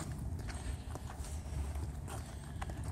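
A horse walks under a rider during horseback riding, with rhythmic clip-clop hoofbeats landing in a steady, close, even gait over a low rumbling background.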